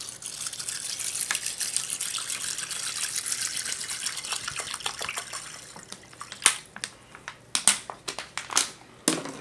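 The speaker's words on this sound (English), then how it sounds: "I'm just going to cover it with some water." Water pours from a tap over dry boxed macaroni in a portable oven food warmer, a gushing stream at first, then thinning into splashes, crinkles and sharp irregular clatters near the end.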